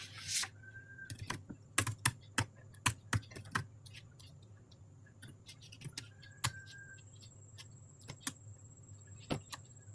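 Close keyboard typing as a sine formula is entered into an Excel spreadsheet, sharp irregular keystrokes in short bursts with quiet gaps, over a low steady hum.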